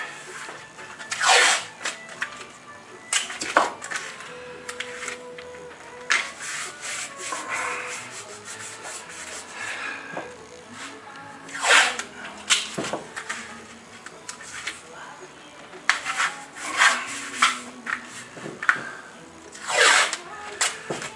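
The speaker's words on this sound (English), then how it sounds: "stretching this tape out good and tight" Tape stretched tight over a glued wood joint during a boat build, heard as repeated sharp ripping and rubbing bursts at close range, coming in irregular pulses with quieter handling noise between them.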